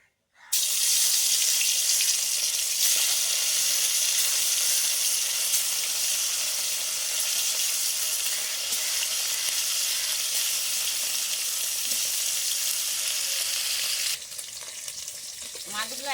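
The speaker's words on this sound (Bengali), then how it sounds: "আমার কড়াইয়ে তেল গরম হয়ে গেছে, নুন হলুদ মাখিয়ে রাখা মাছগুলো ভেজে নেব।" Turmeric-and-salt-coated snakehead fish frying in hot oil in a kadai, a loud, dense, continuous sizzle that starts abruptly and holds steady, easing slightly near the end.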